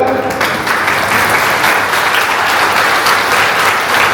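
A school audience claps loudly and steadily in a dense, continuous wash of applause that fills the hall without letting up.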